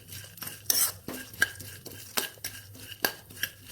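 Sunflower seeds frying in a pan while a metal spoon stirs them, giving repeated clinking and scraping strokes over a faint sizzle, close and fairly quiet.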